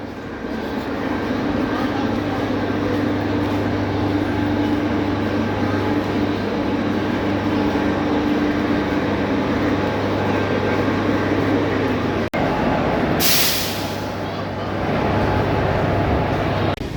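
A train stands at a railway line's terminus beside a tricolour WAP4 electric locomotive, a steady low rumble and drone running throughout, with a sharp click and a brief hiss burst near the end.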